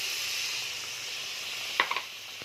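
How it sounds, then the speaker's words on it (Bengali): Spiced masala for a prawn malai curry sautés in oil with a soft, steady sizzle, and a few small clicks come near the end. "যতক্ষণ তেল বেরোচ্ছে না ততক্ষণ কষাতে হবে"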